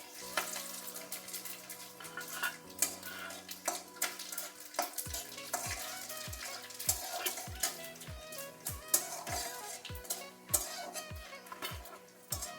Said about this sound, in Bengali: ফোড়নে দিচ্ছি গোটা জিরে, শুকনো লঙ্কা আর দারচিনি, লবঙ্গ, এলাচ।